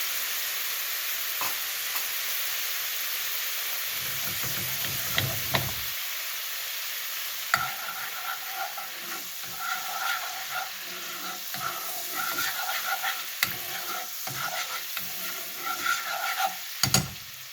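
Sauce for a Japanese steak bowl bubbles and reduces in a hot skillet with the burner off, a continuous sizzle with scattered stirring scrapes and taps, growing busier later on.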